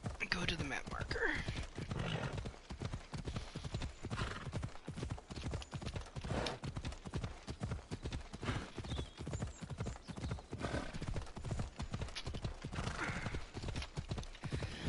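Horse hooves gallop in Assassin's Creed Odyssey, a steady rapid clip-clop running throughout, close and loud, with an occasional whinny and a voice talking over parts of it.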